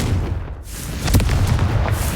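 The Confringo fire spell in Hogwarts Legacy bursts with a loud, close boom followed by a rumbling blast tail, heavy low-end impact dominating the brief moment.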